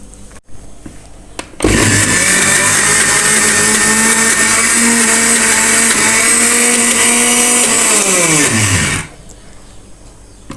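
Kitchen blender whirring at full speed while grinding homemade mayonnaise, starting abruptly and running steadily loud for about seven seconds before winding down and stopping, with no talk over it.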